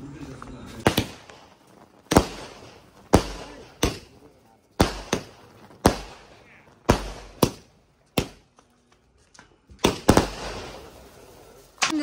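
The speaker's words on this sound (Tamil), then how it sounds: "எப்படி இருந்ததுடா வெடி?" Firecrackers burst one after another at a Diwali celebration in a village. The sharp, loud bangs come at irregular intervals about a second apart, each fading into a short echo, with faint voices between them.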